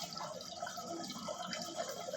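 Water is poured into a glass in an airport lounge, a faint, steady trickle and gurgle of liquid with a rising fill tone, quiet and close, lasting about two seconds.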